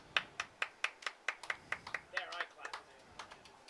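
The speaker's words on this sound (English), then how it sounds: "let's give a nice hand for our title matches" Sparse clapping from a small audience at a bowling tournament's title matches, a quick run of sharp, distinct claps in an uneven rhythm, fairly quiet and close.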